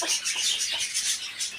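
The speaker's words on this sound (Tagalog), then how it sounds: "Ito po yung Brahman, tinatawag nilang Brahman na manok." A Brahma chicken gives a few soft, close clucks in a quick uneven run, heard alone with no talk.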